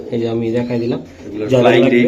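Budapest pigeon chicks at a pigeon farm coo softly and repeatedly, mixed in with someone talking nearby.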